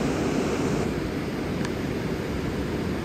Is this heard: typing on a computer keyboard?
no